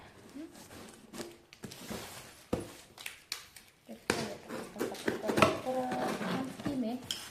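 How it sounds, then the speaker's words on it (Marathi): A pressure cooker is opened and handled, with irregular metallic clanks, knocks and scrapes of pot parts up close while someone talks over much of it. "मी तुम्हाला ना आता कुकर खोलून दाखवणार आहे"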